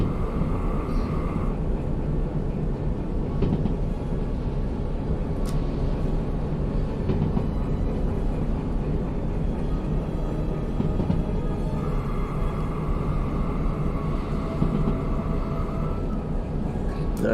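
A train rolling through the rainy valley in the game Derail Valley, a steady low rumble of wheels and engine, continuous and moderately loud, with faint tonal whines coming and going.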